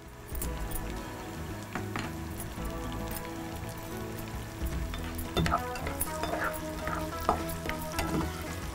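Garlic sizzling steadily in hot oil while tempering for Chettinad rice sundal upma, a close, continuous crackle with occasional louder pops and stirring.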